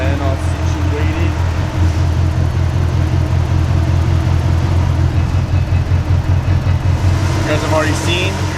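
A 1UZ V8 swapped into a Nissan 240SX idles steadily while its power steering is bled of air, the engine rumbling close and constant, with brief faint whines near the end.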